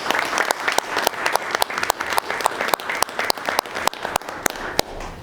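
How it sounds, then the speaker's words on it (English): Applause at a commission meeting: a room of people clapping steadily with sharp, uneven individual claps, moderately close and without talk. "So let's give them one more round of applause."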